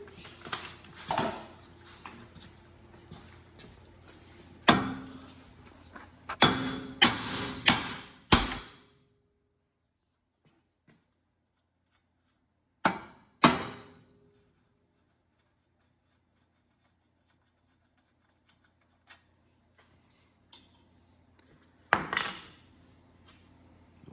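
Sharp metallic hammer strikes on a car suspension part while installing coilovers on an EK hatchback ring out in uneven bursts, several quick blows, then a pause, then a few more isolated hits, close by.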